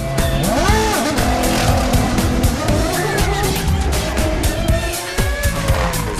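Formula 1 cars race through the Senna S at the Brazilian Grand Prix in 2008, engines screaming loud and continuous with shifting pitch as cars pass close, tyres squealing through the linked corners, with a commentator's voice underneath.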